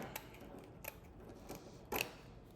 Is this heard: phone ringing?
no